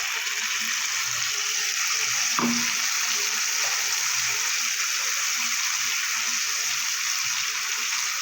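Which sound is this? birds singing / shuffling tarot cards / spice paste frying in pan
spice paste frying in pan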